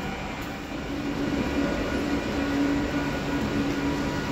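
Suburban local train at Sealdah station, Kolkata, before dawn: a steady rumble of the train with wheels running on the rails, a faint drawn-out squeal, and no talk.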